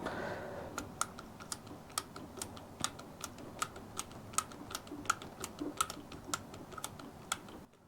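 Rebound damping adjuster on a bicycle fork top cap being turned, giving a steady series of sharp, evenly spaced detent clicks, about two per second, close up and alone with no talking.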